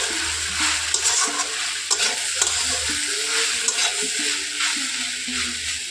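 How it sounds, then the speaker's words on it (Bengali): Leafy greens (shak) fry in a pan with a steady, close hiss and sizzle, broken by the clatter and scrape of a spatula stirring the greens. "এখন শাকটা ভাজছি আমি"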